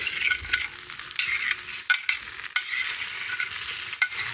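Spoon stirring a mixture, with steady scraping and clinking strokes over a background sizzle. The strokes come close and fairly loud, with a few sharper knocks against the container.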